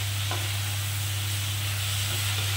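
Rohu fish curry cooks in a covered pan, giving a steady, soft sizzle and hiss throughout, with a constant low hum beneath and no talking.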